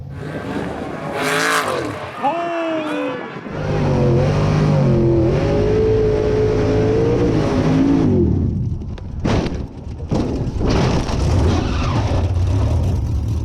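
Off-road race car with a 300-horsepower nitro boost revving hard, its engine climbing and falling through loud whining pitch sweeps as it rolls over at a Formula Offroad event in Akranes, Iceland, before the roar cuts off.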